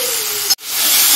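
Spices sizzle in a pan with a loud steam hiss, broken by a sharp momentary drop before the spray-like hiss swells back.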